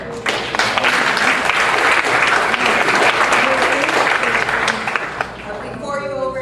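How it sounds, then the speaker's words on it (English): A conference audience claps through a last round of applause at the close of a keynote session, the dense clapping loud and sustained before tapering off as a voice begins speaking near the end. "Let's have a last round of applause."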